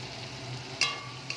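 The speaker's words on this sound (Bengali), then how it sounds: "আর মশলাটাকে ভালো করে কষাবো যতক্ষণ না তেল ছেড়ে আসে।" Masala with tomato and salt stir-fried in oil for Bengali chicken kosha, a steady low sizzle with one sharp scrape of the spatula near the end and a fainter one after, no talking.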